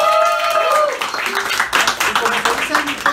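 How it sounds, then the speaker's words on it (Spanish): An audience claps for a group of young people at a municipal event, with scattered claps rising after a voice and continuing unevenly alongside some talk. "Así que brindemos un fuerte aplauso a estos jóvenes."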